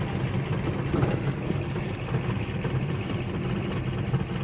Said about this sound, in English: I'll go into first, you'll hear the RPMs drop a little.